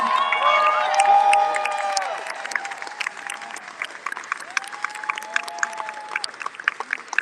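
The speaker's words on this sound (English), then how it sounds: "Let's give Shamika Michelle a round of applause" A rally crowd cheers and whistles loudly at first, then the noise thins to scattered, uneven clapping that gradually tapers off.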